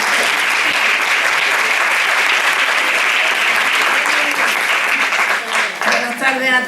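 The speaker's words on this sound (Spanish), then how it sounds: "un aplauso para ella, por favor" Dense, loud applause fills a room at a documentary film forum screening, continuous clapping from many hands that thins slightly near the end as voices begin to rise.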